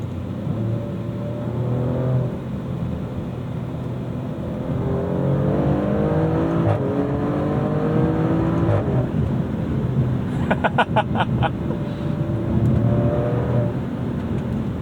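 A 2025 Maserati Grecale Trofeo engine revs hard under acceleration, pitch climbing to redline before quick automatic upshifts drop it back, loud and steady throughout with a brief burst of crackles near the end.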